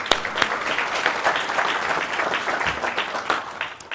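Dense clapping from a sizable audience continues throughout, fairly loud and even, with a few sharper claps standing out.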